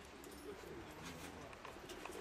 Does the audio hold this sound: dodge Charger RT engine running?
no